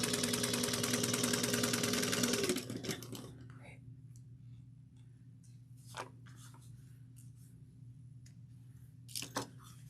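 A sewing machine stitches a tote bag seam at 3/8 inch with backstitching, running loud and steady for a couple of seconds before stopping, followed by quiet room tone with a few faint clicks.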